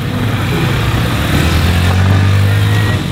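A street bike motorcycle engine runs and revs while warming up, a steady, loud, close rumble that swells slightly without any talk.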